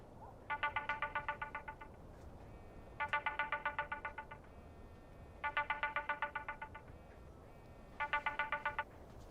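A mobile phone ringtone plays alone in four bursts of rapid, evenly spaced electronic beeps, each lasting about a second with short pauses between, moderately loud and near.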